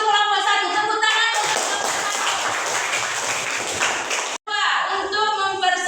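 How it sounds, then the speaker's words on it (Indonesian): A classroom group breaks into a dense burst of hand clapping that swells and holds for several seconds, with children's voices talking before and after it. "Tepuk tangan"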